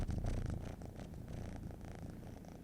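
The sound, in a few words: cat purring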